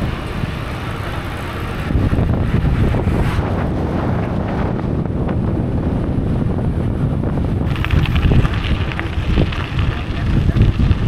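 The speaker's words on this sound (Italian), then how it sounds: "abbiamo il vento proprio dritto, ma dritto, cioè non si va avanti" Strong headwind buffeting the microphone while gravel cycling in Istria, a loud continuous roar of wind noise that swells and gusts throughout, with a voice speaking over it.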